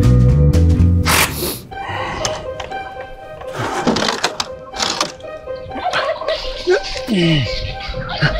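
Guinea fowl call loudly and harshly in a chicken coop, with repeated squawks and chattering cries under and between people talking, plus some thumps and clatter nearby.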